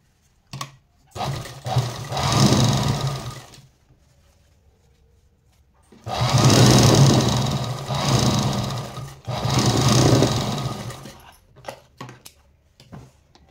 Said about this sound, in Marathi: आता हे चारही साईडला शिलाई मारून घ्यायच्या